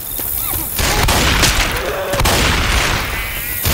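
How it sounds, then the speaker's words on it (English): Loud, dense gunfire in the zombie shooter game Left 4 Dead 2 at the Dark Carnival, sustained bursts of shots and booms with brief gaps, filling the whole stretch. "Stop shooting."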